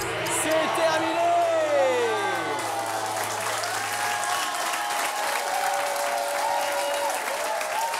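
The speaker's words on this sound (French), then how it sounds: "Et on peut applaudir notre première gagnante du soir" A French game show studio audience applauds the evening's first winner, steady sustained clapping with a few whoops, a host's voice sliding over the top.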